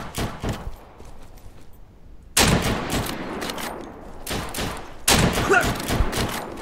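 Gunfire in the survival shooter game Deadside: bursts of rapid shots crack out in clusters, with loud volleys, short gaps of quiet and some distant pops between them, no talking.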